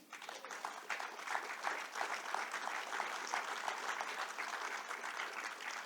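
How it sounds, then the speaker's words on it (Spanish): A room full of people at a literary workshop gathering claps steadily in sustained applause, a dense even patter that holds at moderate volume throughout with no talk over it. "Entonces un aplauso para don Fernando"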